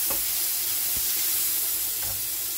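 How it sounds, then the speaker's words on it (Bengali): Mushrooms frying in a wok with turmeric and salt, a steady close sizzle and hiss with a few soft stirring knocks. "এবার ভাজা ভাজা করে নেবো মাশরুমটা।"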